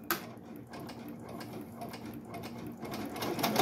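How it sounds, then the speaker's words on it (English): An embroidery machine sews placement stitches for applique letters, a close, steady rapid mechanical ticking and whirring with faint gear-like clatter, running alone and growing slightly louder toward the end. "So it's making the placement stitch for each one of the letters."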